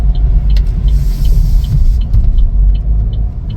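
A 2023 Chevrolet Trailblazer Activ accelerates on the road, a loud, steady engine rumble with road noise heard from inside the car and no talk.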